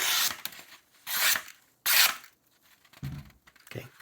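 A sharp knife blade slices through a sheet of paper in three quick, close, hissing swipes, each a short rasping tear, followed by faint handling rustles.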